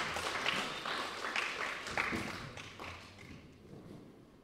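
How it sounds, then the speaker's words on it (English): Applause for a guest of honor at a formal gathering, a fairly faint, scattered clapping that thins out and fades toward the end, with a few sharper claps standing out. "Another round of applause for our guest of honor."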